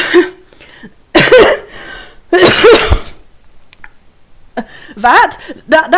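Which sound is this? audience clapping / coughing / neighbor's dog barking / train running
coughing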